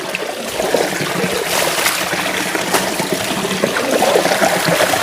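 Spring water flows steadily from a restored village spring, a continuous close trickling and splashing with no pauses across the whole stretch.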